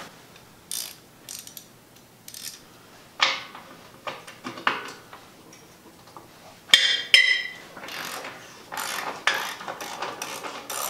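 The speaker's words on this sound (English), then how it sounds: "you're going to come in here with a 1/2 inch ratchet" A 1/2 inch ratchet clicks in short bursts while muffler hanger bolts are loosened, crisp close ratcheting strokes separated by pauses, with metallic clanks from tools and exhaust parts.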